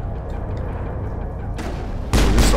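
Sci-fi gunfire in Mass Effect rattles steadily through a firefight on Feros, then a loud, sharp burst of shots erupts near the end, with no talking.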